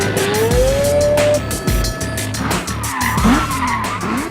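A drift car thrashes up the Crown Range road in New Zealand, tires skidding and squealing loudly as the engine screams and rises, with sharp gear changes and bursts of rubber screech close by.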